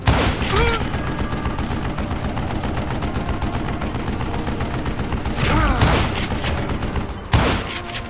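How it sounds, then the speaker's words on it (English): Western-style gunfire in the shooter game Call of Juarez: Gunslinger: dense, loud, continuous volleys of shots fill the clip, with a couple of sharper bursts and brief mechanical clicks later on. "I gotta reload!"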